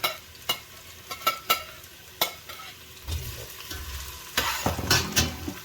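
Onion and garlic sizzle and crackle in a hot pan while a utensil knocks and scrapes against it in sharp, irregular strokes, close by.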